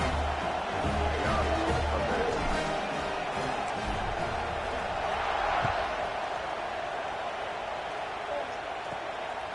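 A stadium crowd at a college football game in the video game College Football 26, keeping up a steady, broad roar and cheer through the whole stretch, with speech over it.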